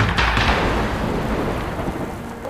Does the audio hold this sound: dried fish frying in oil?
no